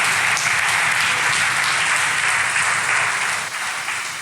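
A church congregation applauding in praise, steady dense clapping that stays loud and even throughout, with no talking over it.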